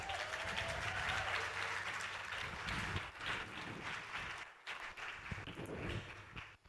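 Steady applause and cheering from a conference audience, continuous and lively, fairly distant, with no clear speech.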